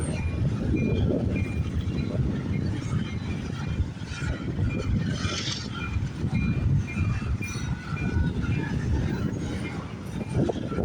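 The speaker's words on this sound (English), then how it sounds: "This train originates from Prince Rupert's, British Columbia, terminates at the Brampton Intermodal Terminal in Brampton, Ontario" A CN intermodal freight train rolls past in Vaughan, Ontario with a heavy continuous rumble of wagons and wheels and faint intermittent squeals, close and steady throughout.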